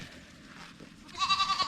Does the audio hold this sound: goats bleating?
yes